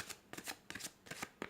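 Tarot cards from a John Holland deck being shuffled by hand, a run of five or six quick riffling bursts in a steady rhythm, close and fairly quiet, with no talking.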